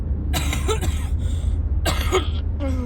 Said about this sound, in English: I don't want you coughing near me.